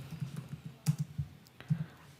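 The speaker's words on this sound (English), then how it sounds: "I'm going to do something like type in a message first" Quick, light clicking keystrokes on a computer keyboard as a short message is typed, close and fairly quiet, in uneven bursts.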